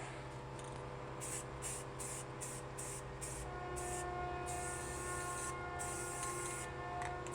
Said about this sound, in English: we're just gonna spray this thing down